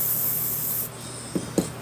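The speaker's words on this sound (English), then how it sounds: "spray it on this toothbrush." White spray paint hisses onto a toothbrush in a close, steady spray that cuts off abruptly, followed by a couple of soft taps and a quieter brief hiss.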